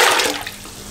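Water poured into a cooking pot for beef haleem, a broad splashing pour that is loud at first and then settles into a steadier, quieter stream, with no talking over it.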